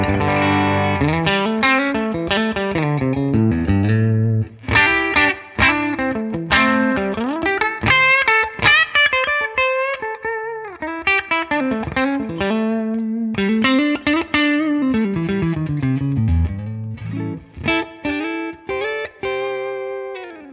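Electric guitar played through a Tonex amp capture on its push 1 gain setting, a continuous run of distorted, sustained chords and single notes ringing out with no talking.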